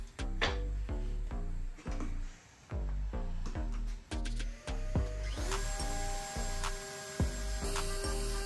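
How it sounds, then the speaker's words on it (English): A router with a 1/8-inch roundover bit shapes the edges of wood and epoxy resin coasters in repeated short passes, each a brief whining surge of motor and cutting, with quieter gaps between. "We're gonna round over the edges with an 1/8 inch roundover bit"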